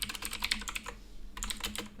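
Close, quick bursts of keystrokes on a computer keyboard while C++ code is entered, two clusters of clattering taps separated by a short pause, with no voice over them.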